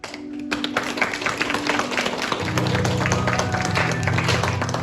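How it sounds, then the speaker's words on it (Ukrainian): An audience claps loudly at a kindergarten autumn fair, dense steady applause building and swelling, with a brief tone before the clapping starts and music joining partway. "гучно діткам аплодуйте"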